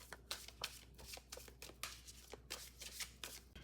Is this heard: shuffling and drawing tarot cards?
yes